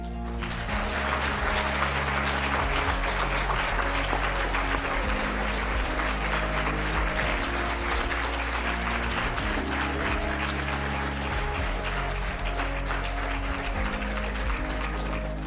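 A climate convention audience applauds Jean-Louis Etienne with sustained, even clapping, loud and dense throughout, over a steady background of music or tonal hum.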